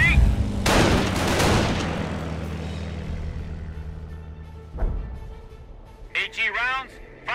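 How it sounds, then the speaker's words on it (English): Artillery shells from a creeping barrage in a WWII Normandy video game crash in with a loud broadband burst near the start, rumble on, then a second impact near the five-second mark, with a voice speaking near the end. "Creeping barrage on my markers."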